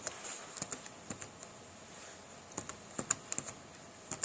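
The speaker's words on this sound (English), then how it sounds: "So I'm going to type in my password." Password being typed on a computer keyboard at a Windows login screen: a scattered run of light, close key clicks in uneven bursts, with no talking.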